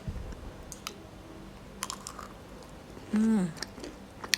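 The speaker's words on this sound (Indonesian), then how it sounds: "Ini tuh renyah banget, kriuk-kriuknya teman-teman bisa denger ya." Crisp crunching bites and chewing of a kastengel cheese cookie close to the mic, a few sharp cracks in quiet room tone, with a brief hum partway.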